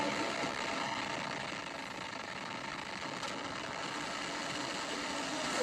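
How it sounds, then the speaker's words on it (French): An Ariane rocket's Vulcain engine ignites into a broad, steady roar that fills the whole stretch and builds slightly toward the end, heard with no voices. "Top, allumage moteur Vulcain."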